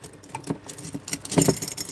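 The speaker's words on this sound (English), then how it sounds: "I'll use the toenail scissors." Small metal toenail scissors rattling and clicking as they are picked up and handled, a run of light jangling taps growing busier toward the end, with no voices.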